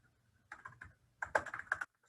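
Typing on a computer keyboard during an online course-list search: two quick bursts of close, crisp key clicks separated by a short pause, with no voices.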